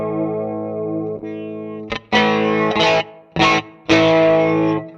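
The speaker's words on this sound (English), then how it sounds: "There's some flanger." Electric guitar run through a flanger effect with light reverb on a Fender Mustang Micro headphone amp: a sustained chord rings, then several strummed bursts with a swirling, sweeping tone, played alone and fairly loud.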